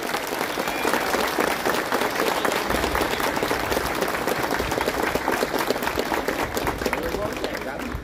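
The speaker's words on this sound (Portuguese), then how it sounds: "uma salva de palmas para ele." Crowd at a Catholic procession for Our Lady Aparecida applauding, loud sustained clapping close to the microphone that keeps an even intensity for about eight seconds.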